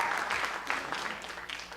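Gala audience clapping at a performing arts school event, a brief burst of many hands that starts full and gradually thins as it fades.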